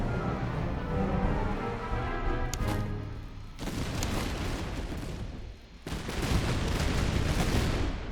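Musket volley fire in the Master of Command video game, heard as dense crackling bursts of gunfire in several loud waves, with brief dips between volleys and no talking.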